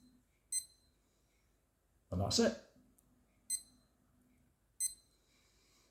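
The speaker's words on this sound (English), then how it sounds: "when you turn the alarm on, it starts to beep" Three short, high electronic alarm beeps from a Benlywatch G100 smartwatch sound at uneven intervals in a quiet room, with a brief spoken remark between the first two.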